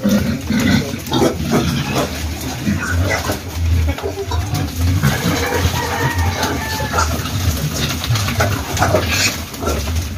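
Pigs on a farm being given vitamins, with repeated grunts and snorts close by amid restless movement, irregular bursts over a busy background and some voices in between.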